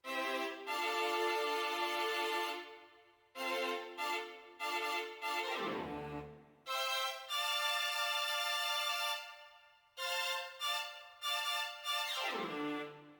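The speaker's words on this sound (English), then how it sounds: "So let's listen to the strings alone." A string section from a beat sample pack plays alone, sustained chords swelling in phrases with short gaps, pitch sliding down at the end of each half, loud and clean with no other instruments.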